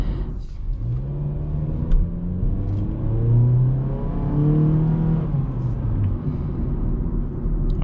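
A 2022 Honda Civic LX accelerates at full throttle, its engine note rising in pitch through the gears with a steady droning rumble heard from inside the cabin, no voices.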